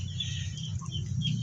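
Farmyard chickens fed alongside pet pigs cluck over a steady low rumble of background noise, with soft calls rising near the middle and end.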